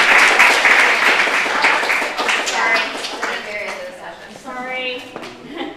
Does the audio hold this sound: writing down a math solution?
no